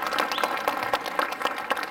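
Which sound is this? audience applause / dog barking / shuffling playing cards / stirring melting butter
audience applause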